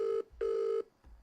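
An outgoing phone call ringing tone, steady electronic tone pulses repeating in a near, clear rhythm with short gaps, and no talking over it.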